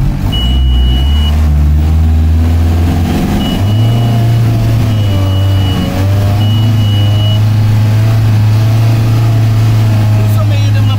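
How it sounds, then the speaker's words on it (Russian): The Volkswagen Passat B5 diesel engine in a Ukrainian off-road monster truck drones loud and close, its pitch stepping up and down as it pulls through rough terrain, with voices talking over it. "Дизелек фольксвагеновский, да, стоит? Passat B5."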